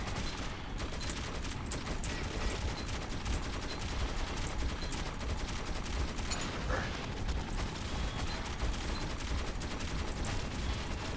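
Continuous rapid turret gunfire in the video game Metro 2033 Redux, a mounted gun fired from a vehicle at a checkpoint; dense, unbroken machine-gun rattle, loud and close, sustained throughout with mechanical clatter.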